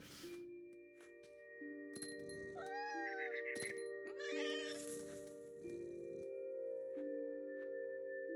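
In the video game What Remains of Edith Finch, a cat gives a few rising, drawn-out meows over a soft sustained music drone, moderately close, with light rustling movement between the cries.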